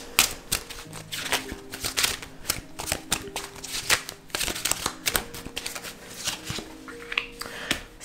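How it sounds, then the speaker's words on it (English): Tarot cards are shuffled and drawn from a deck: quick riffling, snapping and soft slaps of card stock, close and continuous, with a light flutter of handling throughout and no talking. "I'm going to go ahead and pull a few more cards just to get a couple more clarifications."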